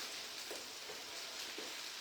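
Potatoes sizzle on a hot All-Clad grill with a steady, soft hiss of frying throughout and a few faint pops, fairly quiet with no voices.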